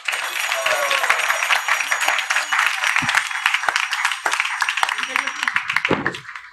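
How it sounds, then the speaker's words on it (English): Applause from the audience at an ISKCON Hyderabad Sunday class, a steady wash of clapping that carries on for several seconds before tapering off near the end. "Please give them a big round of applause."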